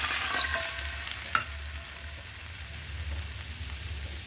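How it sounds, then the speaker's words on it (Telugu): Milk poured into a hot pan holding fried bread pieces for bread halwa, producing a steady close sizzle and bubbling hiss with one brief sharp clink partway through. "ఇదే ప్యాన్లో కొంచెం పాలు వేసుకుందాం."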